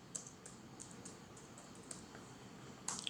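Quick, light keystrokes on a computer keyboard while typing code, a soft irregular patter of close clicks ending in a slightly louder cluster, with no voice.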